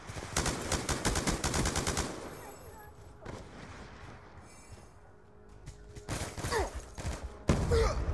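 MTAR assault rifle fire in Black Ops 2 on the Turbine map, rapid bursts of close automatic shots, then a quieter stretch before more loud bursts and a sharp blast near the end.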